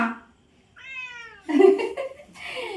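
A cat gives a clear, drawn-out meow, followed by a few louder, rougher calls close by.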